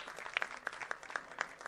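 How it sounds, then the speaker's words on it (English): Brief, fairly quiet applause with scattered distinct claps standing out, a small crowd clapping for a moment at a film first-look launch event. "Please give Thalia a big round of applause"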